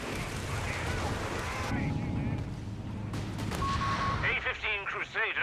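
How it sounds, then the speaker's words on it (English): A Land Mattress rocket artillery barrage in the Company of Heroes 3 video game: a dense, continuous roar of launches and explosions, loud and close, with a voice faintly heard near the end. "Speaking of the land mattress, there it goes. Lands a great hit on that Grenadier."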